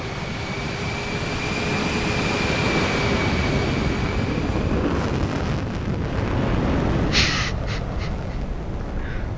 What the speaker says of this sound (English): Mission Control, this is Zeta 1, taking off.